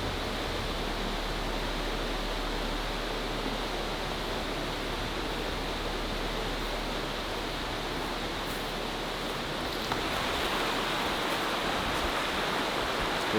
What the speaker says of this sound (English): There's just something with the vibe of being by the river and the peaceful sound of it